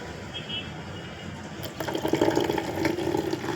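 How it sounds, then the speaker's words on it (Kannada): Water is poured into a plastic bottle mixed with fabric softener for a homemade room freshener, a gurgling, splashing fill that starts abruptly partway in and keeps running close and steady. "ಮತ್ತು ಒಂದು ಸ್ವಲ್ಪ ನೀರು ಹಾಕ್ಕೊಳ್ರಿ"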